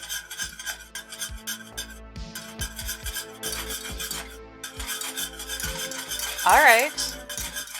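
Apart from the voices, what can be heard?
whisking a hot bubbling cake mixture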